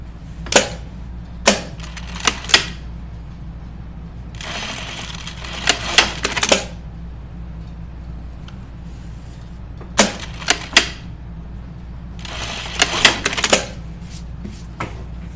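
A sewing machine stitches fabric in short separate bursts, each a quick rattling run, with two longer runs among them, over a low steady hum and quiet pauses.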